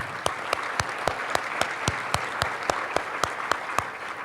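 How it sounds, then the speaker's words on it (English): An audience at a creative placemaking summit applauds steadily in a room, with a dense wash of clapping punctuated by a few louder individual claps near the microphone, holding at a constant level for several seconds. "So I'd like to give them all a round of applause real quickly."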